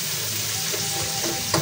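Onions and tomatoes sauté in a pan for salmon belly tocho, a steady close sizzle with light stirring scrapes and a soft clack near the end.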